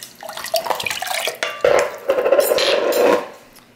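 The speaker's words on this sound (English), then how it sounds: "the next one, we need water. So that's going to be about a half a cup." About half a cup of water is poured into a bowl while preparing a keto General Tso's chicken balls recipe, a close splashing, trickling pour lasting a few seconds with a clink of dishes near the end.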